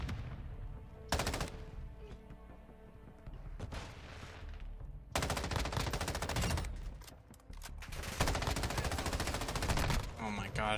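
Sustained M13B assault rifle fire in Modern Warfare 2, dense automatic bursts that stop and restart several times, loud and close over game ambience.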